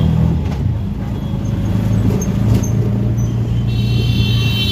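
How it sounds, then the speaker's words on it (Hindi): Yellow-plate commercial taxis pass by on a busy street, a steady loud rumble of several cars and engines going by close to the listener, with no voices. "देखिए पीली प्लेट की गाड़ियाँ, ध्यान से देखिए कितनी गाड़ियाँ हैं। ये गाड़ी गई, ये गाड़ी गई"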